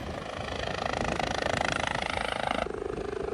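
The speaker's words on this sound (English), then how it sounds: "It's just hovering around, so we're going to have helicopter noise now for the next few holes." A training helicopter hovers overhead above a golf course with a steady pulsing rotor chop, loud and continuous, with no voices present.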